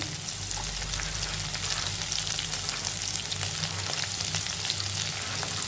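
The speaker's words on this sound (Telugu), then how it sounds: "ఉల్లిపాయలు కొంచెం ఫ్రై చేయాలంటే. ఇప్పుడు దీంట్లోకి కొన్ని పచ్చిమిరపకాయలు," Onions and green chillies frying in a pan for okra curry, a dense, even close sizzle that carries on without pause.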